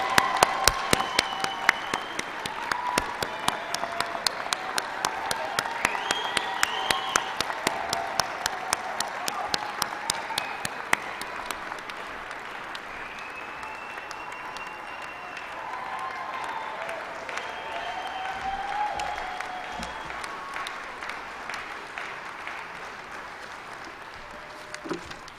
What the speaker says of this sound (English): If everyone will stand and applaud each other,